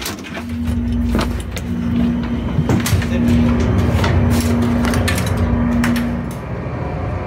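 A speedboat engine runs on the way to a sea rescue, a continuous loud droning hum with knocks and thumps from the hull and water, with little talk.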